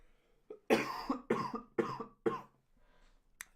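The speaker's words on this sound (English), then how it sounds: "I think I need to cough" A man coughs close to the microphone: four sharp, rapid coughs in a row, a softer catch before them, and a brief throat noise after a pause.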